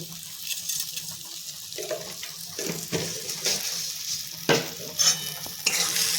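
Spice mixture frying in a pan for a spinach and potato dish, stirred with repeated scraping and clacking strokes over a soft sizzle, close and without talk.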